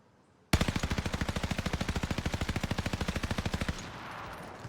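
Rapid, evenly spaced bursts of DP-27 light machine gun fire in a video game, a sustained string of about thirty loud shots lasting roughly three seconds before cutting off into quiet ambience.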